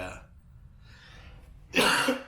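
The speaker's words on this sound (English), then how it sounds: "I can't get rid of the cough" A man lets out a single harsh cough near the end, after a short stretch of near quiet.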